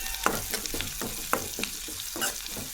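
Curry leaves crackle in hot oil for tempering, with a close sizzle broken by a series of sharp pops and stirring taps at irregular intervals, no talk.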